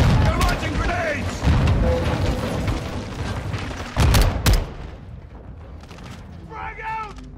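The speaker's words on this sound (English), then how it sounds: "They're launching grenades!" Grenade blasts in Call of Duty: Modern Warfare II, with two heavy booms, one near the start and a louder one past the middle, over steady battle noise while several voices talk and shout.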